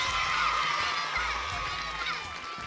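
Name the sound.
audience applause for the teacher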